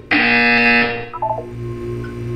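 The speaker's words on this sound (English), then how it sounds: "You will hear a buzzer." Buzzer in the Portal 2 video game, a loud flat electronic tone sounding alone for nearly a second, then a brief wavering trailing chime over a low hum.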